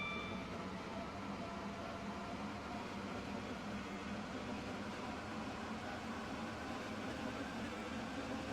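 A train runs in the Stepford County Railway video game, a steady broadband rumble and hiss of wheels and motors from the cab, continuous and even throughout.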